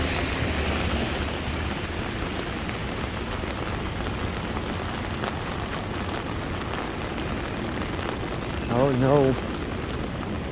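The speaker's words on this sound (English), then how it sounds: "Oh, it's raining" Heavy morning rain in New York City near Times Square, a dense, steady hiss of downpour on streets and surfaces, with a voice speaking briefly near the end over the constant roar.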